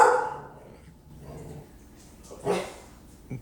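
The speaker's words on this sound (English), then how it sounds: "the dog's gonna freak out" A dog named Finn reacting to a garage door opening, a couple of short anxious barks and whimpers nearby with quiet gaps between.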